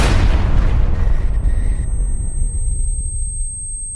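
A homemade mail bomb explodes as a package is opened, a single loud deep boom that rolls into a long fading rumble, with no voices over it.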